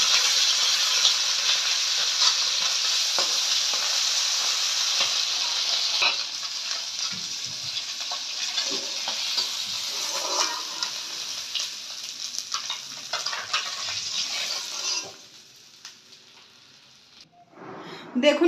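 Small puti fish frying in oil in a pan, with a loud, continuous crackling sizzle, some stirring clatter as the fish are flipped, and the sizzle easing near the end.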